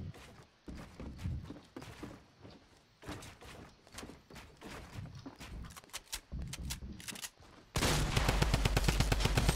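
Bursts of Tommy gun fire in Fortnite Battle Royale crackle in rapid volleys with scattered single shots and footsteps between, then a loud sustained stream of automatic fire closes the sequence.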